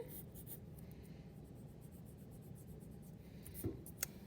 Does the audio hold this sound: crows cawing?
no